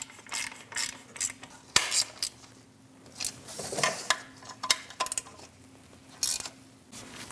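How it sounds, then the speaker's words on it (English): Ratchet snugging the heat shield bolts on a 2011-2026 Dodge Durango 5.7L V8, close bursts of rapid clicking pawl strokes with metallic clinks between them, no voice. "Snug the bolts down."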